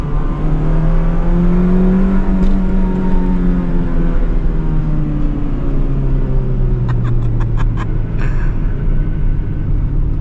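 A loud, close car engine hums and rumbles, its pitch rising and falling as it revs, with a few quick clicks near the end.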